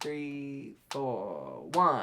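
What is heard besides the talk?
No everyday noise stands out behind the speech.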